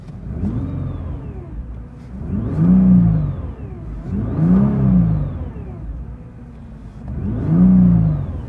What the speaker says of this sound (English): Who wants to rev it? Because I want to listen to it with that.